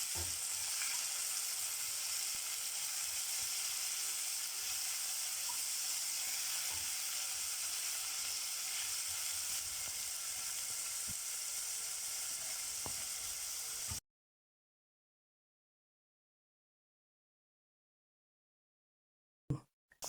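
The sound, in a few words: frying chopped onions, spring onions and coriander stems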